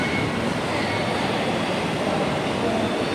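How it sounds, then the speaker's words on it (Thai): A skytrain at Siam station in Bangkok gives off a steady, loud rolling rumble and rushing noise, continuous throughout with no pauses. "อันนี้ก็เป็นบรรยากาศอยู่ที่สถานีเด้อพี่น้องเด้อ สถานีรถไฟฟ้าสยาม"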